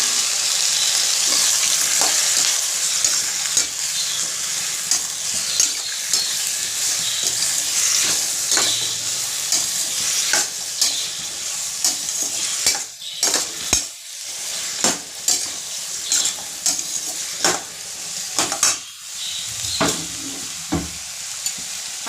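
Cauliflower tipped into a hot pan and stirred, with a loud continuous sizzle and frying hiss, then repeated scrapes and clinks of a spoon against the pan.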